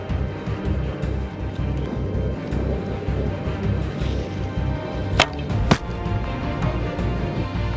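Two sharp snapping releases of a bow firing an arrow, about half a second apart, cutting through steady outdoor background noise.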